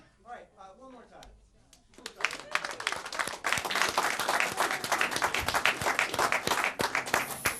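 Audience applause for dancers at a community access TV annual meeting: after a few seconds of a voice talking, a dense, loud round of crowd clapping rises and carries on steadily to the end.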